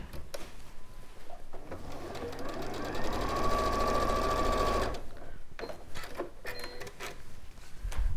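A sewing machine stitches down the pressed raw edges of Hoffman batik fabric, a steady close whirring run of a couple of seconds rising out of quieter handling noise and brief pauses.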